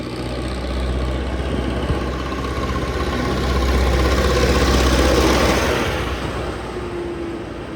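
Belarus 82.1 tractor diesel engine running steadily close by, a deep even rumble that swells slightly in the middle before easing back, with no talk over it.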